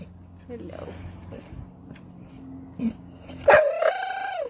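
A dog makes small whimpering and yipping noises under steady indoor background sound, with a louder, higher whine rising near the end.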